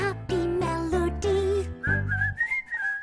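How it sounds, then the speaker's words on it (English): Cheerful whistled melody in a children's counting song, a short run of bright, clear notes sung out over simple backing music. "whistling a happy melody"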